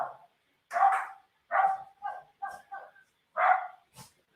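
Dogs barking in a quick run of separate, close barks, some loud and some softer yips, with a short pause between each and no voices.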